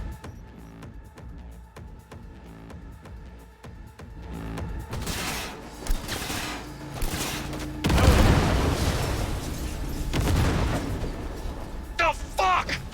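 Grenade blasts in the video game Cyberpunk 2077, several heavy booms and bursts of gunfire-like crackle rolling in after a quieter opening, loud and close, with a voice talking over the action.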